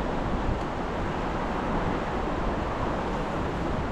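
Strong wind blows at a bridge over water, a loud, unbroken broadband roar buffeting the microphone for the whole stretch, with no talking.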